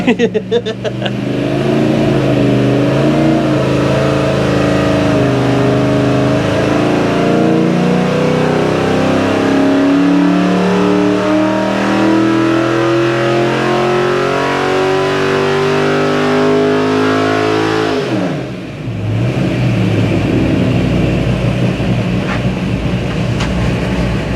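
A small block Chevy V8 destined for a 1967 Camaro roars on a dyno in one long, loud, sustained pull with rising engine pitch, then briefly drops off near the end before revving again.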